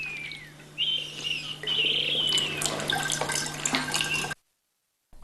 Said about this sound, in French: Il sert tout en émettant un son exquis comme le chant d'un oiseau.